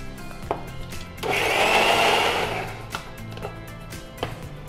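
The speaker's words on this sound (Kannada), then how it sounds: "ಆಮೇಲೆ ಸಾಕು ಗ್ರೈಂಡ್ ಮಾಡಿ." A kitchen mixer grinder grinds chilli and coriander in a loud, close whirring burst of about one and a half seconds, set between quieter clicks and handling noises.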